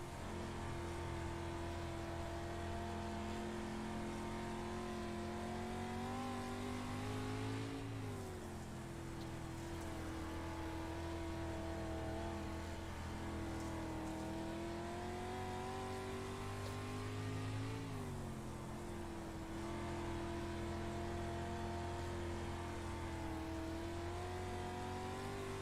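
Dirt street stock race car lapping Lernerville Speedway, a steady loud engine drone held throughout with two brief dips where the pitch drops and climbs again as the car lifts through the turns.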